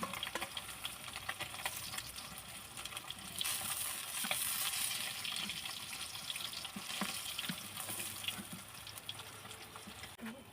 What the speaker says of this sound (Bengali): আমি মাছটা বেশি কড়া ভাজবো না